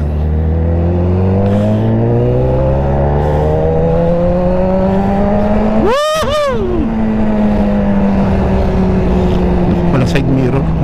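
A BMW S1000RR motorcycle engine on a test ride hums steadily up close, with a sharp rev sweep rising and falling midway; a voice talks over it.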